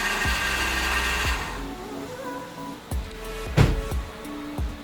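Engine of a Hyundai Getz, serviced for a power steering hose leak, idling with a steady mid-pitched hum, a brief rise in revs near the middle and a few clicks and knocks from close by.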